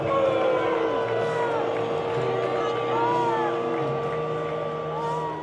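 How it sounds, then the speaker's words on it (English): A large stadium crowd at a World Cup trophy ceremony reacts as Donald Trump walks onto the field, a dense, steady roar with scattered whistles and whoops that holds loud for several seconds. "This is how the crowd reacted when he walked out onto the field."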